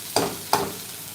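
Dried fish sautéing in a pan, two quick scraping stirs over a soft background sizzle, close and brief.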